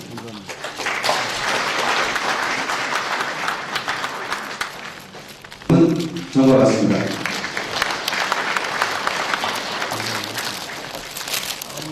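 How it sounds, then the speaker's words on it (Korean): An audience applauds at a cooperative day ceremony in Jeollabuk-do, Korea, with sustained clapping that swells and fades while an announcer speaks over a public address system. "박수 부탁드리겠습니다."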